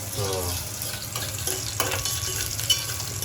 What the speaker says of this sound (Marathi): मस्तपैकी लसणाची फोडणी